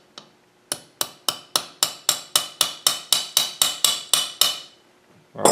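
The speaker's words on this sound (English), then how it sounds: "Give it a tap with a hammer." A hammer taps a fitting into an oiler part on a Ruston Hornsby 7XHR engine, about fifteen sharp, even metallic knocks in steady rhythm, close and loud, with no talk.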